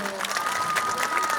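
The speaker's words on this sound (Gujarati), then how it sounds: "ચલો ઈદ માટે જોરદાર તાળી વગાડો" A crowd of children and adults claps steadily at a summer camp closing ceremony in Viramgam, a continuous moderate patter with a faint murmur of voices and a thin sustained tone behind it.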